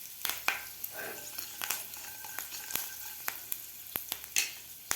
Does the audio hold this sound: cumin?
yes